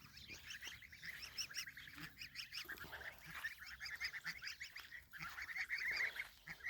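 A chorus of adolescent geese with changing voices honking and chattering continuously, repeated raspy calls overlapping at close range, with no other sounds.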